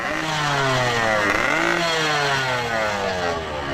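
Motorcycle fitted with a loud aftermarket brong exhaust, revving hard and close, its harsh, raspy engine note climbing, dipping briefly and climbing again in steady, sustained bursts.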